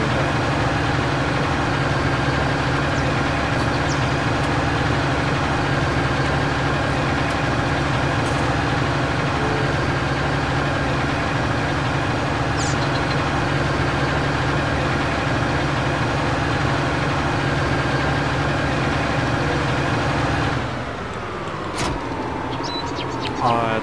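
Tractor engine labouring through mud in Farming Simulator 2019, a steady low droning hum held loud and unbroken, with faint chirps above and a brief shift near the end.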